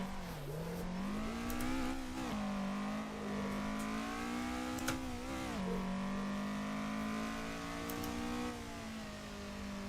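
A car engine in the racing game Assetto Corsa drones steadily at close range, pitch rising and dipping with gear changes and throttle, with no talking.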